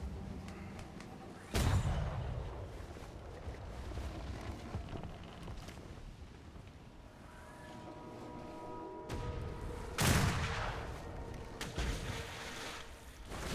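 Long nine cannons fire in a naval battle video game, two heavy booms about eight seconds apart over a steady rumble of wind and sea.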